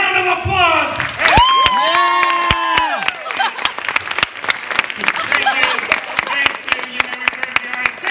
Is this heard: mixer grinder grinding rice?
no